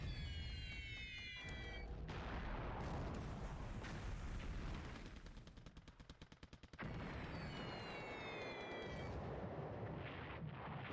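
Bombs dropped by carrier-based Kate aircraft in a 1942 air raid burst in heavy, rumbling blasts with rapid crackling fire, a brief lull, then more explosions and whistling.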